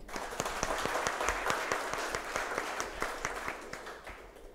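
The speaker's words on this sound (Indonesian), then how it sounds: "Tepuk tangan dong." A crowd applauds steadily at a formal academic address, many hands clapping in a dense, even patter that holds throughout without any talking.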